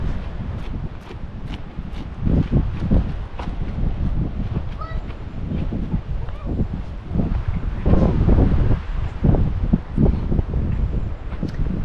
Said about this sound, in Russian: Ветер, правда, дует.